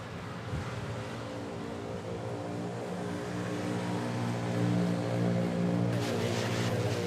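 An ATR turboprop takes off at Manila Airport, a distant, steady low engine drone with a faint higher whine that swells slightly toward the end.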